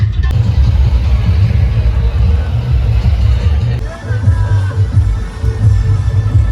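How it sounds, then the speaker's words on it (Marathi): Road traffic on a mountain ghat road, a steady close rumble of vehicles and engines with crowd hubbub and voices mixed in throughout. "बघा ट्रॅफिक पण आहे थोडीफार या साईडला"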